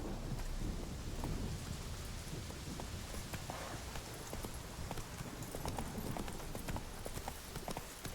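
Roach, Geralt's horse in The Witcher 3 video game, trots steadily through rain with repeated clip-clop hoofbeats over a constant hiss of rainfall and faint rumbles, moderately loud and continuous.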